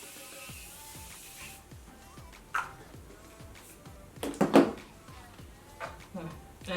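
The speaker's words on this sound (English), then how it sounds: "So I'm gonna spray the face with this Beauty Bakery Sweet Grace baking spray." Beauty Bakery Sweet Grace baking spray misted onto a made-up face during a foundation routine: a soft, close hiss early on, followed by faint handling clatter and a couple of brief knocks.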